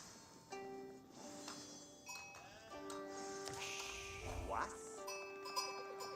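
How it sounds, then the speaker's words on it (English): Sheep in the Age of Empires 4 strategy game bleat repeatedly, several short overlapping calls mixed with game effects and faint background commentary. "I hear the sheep being collected."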